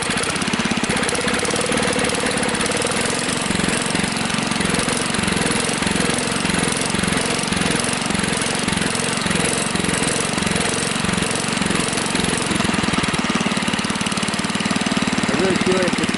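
A Husky engine with a suspected fuel blockage from its tank runs loud and close, a steady rhythmic pulsing throb that lifts slightly toward the end as it is given more RPM.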